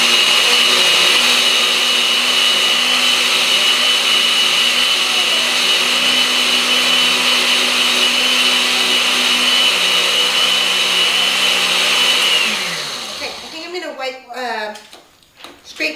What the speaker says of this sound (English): This machine, even though it's just a mini food processor on your basic brand blender, it's doing pretty good. It's chopping those nuts right up.